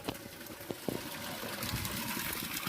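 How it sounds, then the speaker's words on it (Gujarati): Quiet, continuous trickle of water pouring into a container, with a few soft splashes and knocks along the way. "કુંડી ટાંકામાં પાણી થઈ ગયું તો ભર લે"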